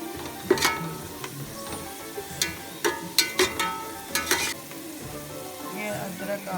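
Garlic and ginger paste hits hot oil with browned onions in a pot, sizzling steadily at moderate volume while a spoon scrapes and clinks against the pot in irregular strokes.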